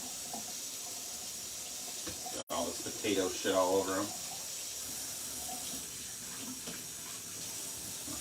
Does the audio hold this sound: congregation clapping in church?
no